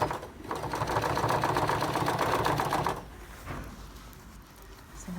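A sewing machine stitches a seam on a Stacie Jean denim jacket, a fast close rhythmic chatter for about three seconds, then stopping to quieter handling noise.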